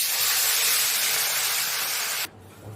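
Bata fish dusted with salt and turmeric hiss and spit loudly in hot oil in a pan, a steady broadband sizzle that holds for over two seconds before cutting off sharply, leaving only quiet room tone.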